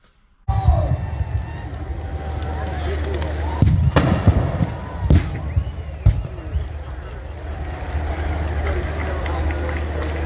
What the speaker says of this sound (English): they did have some of the most amazing fireworks